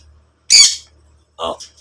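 Pet bird giving two short, loud squawks with a pause between them, heard alone and close during trick training.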